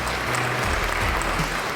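A studio audience at a startup-pitch stage show applauds as the first group of entrepreneur guests walks on stage. The clapping is a steady, fairly loud wash with a low background tone beneath it, and no talk is heard.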